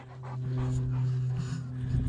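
Working sheepdog panting close by while herding, rapid rhythmic breaths over a steady engine-like hum, with people talking nearby.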